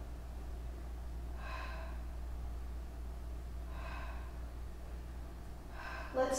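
Deep breaths during a Pilates reformer exercise, three audible airy exhales spaced a couple of seconds apart over a steady low room hum, with a brief louder breath at the end.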